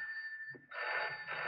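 A telephone rings in a Hindi film scene, a steady electronic bell tone that breaks off briefly, then resumes louder and fuller, with no talk over it.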